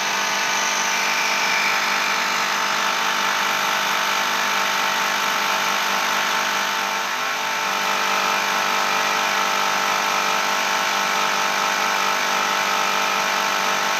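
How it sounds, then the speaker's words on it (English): An Airmoto portable air compressor runs steadily as it pumps up pressure, giving a continuous, fairly loud motor drone and whine with no break and no talking. "As the pressure increases, it's harder for a small compressor to pack that poundage in there."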